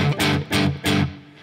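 A guitar chord of root, fifth and ninth, neither major nor minor, strummed three times, each strum bright and ringing before fading, evenly spaced, close and moderately loud.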